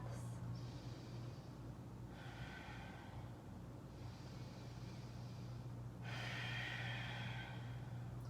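Deep, steady yoga breaths in a power yoga class, with long airy exhales swelling and fading in slow cycles over a constant low hum, close and moderately loud.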